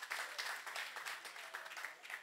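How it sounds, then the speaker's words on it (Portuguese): Audience applause at a show fills about two seconds with a steady, fairly faint patter of many hands clapping and no talk over it. "Mais aplausos para os meus grelhadores"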